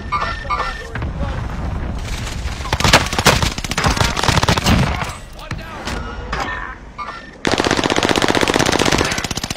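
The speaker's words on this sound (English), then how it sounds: "Oh, cluster strike coming." Rapid machine-gun fire and a chain of booming explosions from an airstrike in the Call of Duty: Warzone video game, loud and dense throughout with a sharper burst of fire near the end, with a voice speaking over it.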